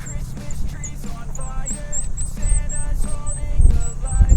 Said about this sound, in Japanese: 今回はセリアで売っているバードコールを買ってみたよ。